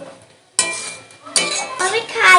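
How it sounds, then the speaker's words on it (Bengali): Lentil fritter batter stirred in a bowl, with a spoon clinking against the dish in short bursts of scraping and tapping that grow busier and louder toward the end, close by with no talking. "ভালো করে মিশিয়ে নেব।"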